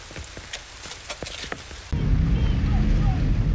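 Steady heavy rain hissing in a video game, The Division 2, starting abruptly after a short stretch of sharp clattering sounds, loud and continuous to the end.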